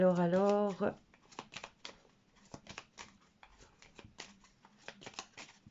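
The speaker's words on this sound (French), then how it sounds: "on va recouvrir chaque carte et on va voir quelle histoire nous raconte le tirage sur Mélania." Tarot cards are flipped over one after another on a table, a series of soft, crisp card snaps and slides at an irregular pace, following a brief bit of speech at the start.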